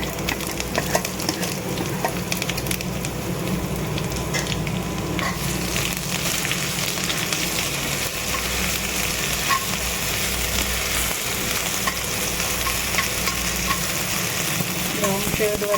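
Garlic ginger paste fries steadily in a pan, a dense, continuous close sizzle like rain with faint stirring clatter, no speech over it.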